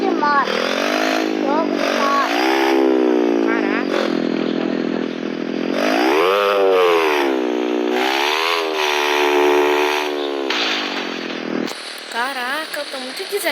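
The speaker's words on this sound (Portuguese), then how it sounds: "Jogo de moto. Jogo de moto." Motorcycle engine in the Elite Motos mobile racing game, revving loudly and repeatedly in rising and falling sweeps with a harsh buzzy tone, a voice speaking briefly toward the end.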